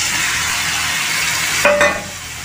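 Pointed gourd (parwal) fries with turmeric masala in a pan, giving a loud, steady sizzle throughout, with a brief clatter of stirring near the end.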